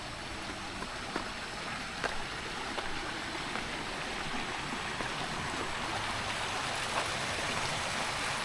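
A river stream at a quiet tea garden resort villa in Subang flows steadily with an even, hissing rush of water, a close and constant wash with faint splashes and no voices.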